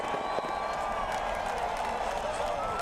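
A large crowd at Richmond's short track cheers, whoops and applauds before a 400-lap NASCAR Cup Series race, a dense, steady roar filling the whole stretch, with some voices standing out.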